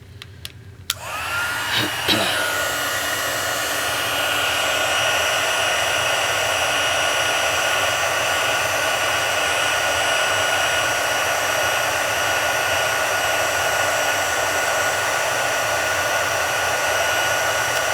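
A heat embossing tool blows hot air onto a Stampin' Up! birthday card, a steady, loud whirring roar that starts after a brief click and runs unbroken to the end with no talking.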